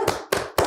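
Three separate hand claps, loud and close, evenly spaced a fraction of a second apart with nothing between them.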